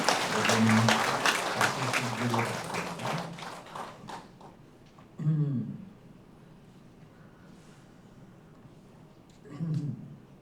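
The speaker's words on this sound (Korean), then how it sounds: "여러분 하느님 아버지께 찬미의 노래를 찬미의 박수를" A church congregation claps in praise during a Saturday prayer meeting, a dense burst of applause at the start that fades, with a few later voices or thuds in a reverberant sanctuary.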